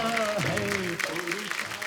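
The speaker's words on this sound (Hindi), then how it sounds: "प्लीज जोरदार तालियों से स्वागत कीजिए मिसिज रेनू चोपड़ा जी का।" A studio audience on a Hindi comedy talk show applauds to welcome a guest onto the stage. The steady clapping runs throughout, mixed with voice and music.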